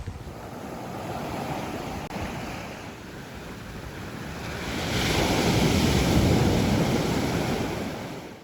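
Surf breaking on the beach at Jervis Bay on a wet day, a steady roar of waves with wind buffeting the microphone, swelling louder toward the end with no voices.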